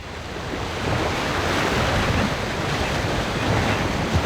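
Ocean surf at a sea shore: a steady, loud roar of breaking waves with heavy wind buffeting the microphone, continuous throughout without distinct separate crashes.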